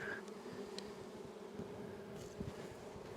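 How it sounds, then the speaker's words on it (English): Honey bees buzz faintly and steadily around an open hive during beekeeping work, a soft continuous drone with small clicks and handling noises and no talk. "a few bees on there"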